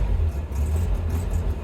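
A Land Rover Series III engine idles with a misfire, giving a loud, continuous low rumble with an uneven, choppy pulse up close and no talking.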